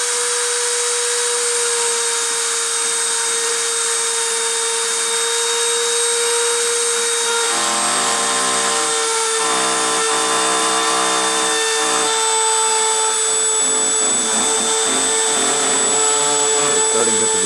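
A friction stir deposition machine lays down a 10mm metal track, giving a loud, steady whine with sustained tonal hum, turning rougher and more textured partway through as grinding, rubbing noise joins in, with no talking.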